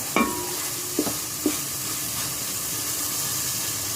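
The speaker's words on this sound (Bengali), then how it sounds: "এই জন্য মশলাটা ভালো করে তেলের সাথে একটু কষে দিতে হবে" Spice paste being stirred and sautéed in hot oil for chicken tikka biryani, a steady sizzle broken by three sharp scrapes of the spoon early on, close and alone.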